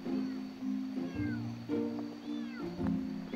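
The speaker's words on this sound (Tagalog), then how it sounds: "Pero yung pusa ko, meow!" A cat at a riverside campsite at night giving a few drawn-out, wavering meows, close and fairly clear, over a faint background hum.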